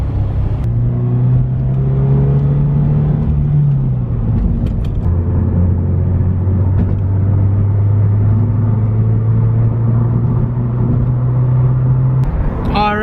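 A Scion FR-S sports car being driven, its engine droning steadily from inside the cabin, rising and falling in pitch as the gears shift partway through, with road rumble underneath and no speech.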